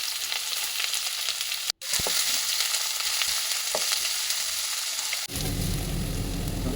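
Onions frying in a pan for a vegetable Maggi, a steady sizzling hiss with occasional stirring clicks, briefly cut off twice; no voices.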